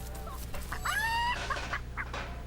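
A chicken in the Divinity: Original Sin video game gives a short run of clucks, one rising squawk standing out at mid-clip, heard alone over a faint steady game ambience.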